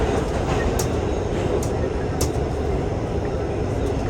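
An R211T walk-through subway train runs with a steady, dense rumble and rattle as the car shakes, heard from inside, close and continuous, with faint speech under the noise.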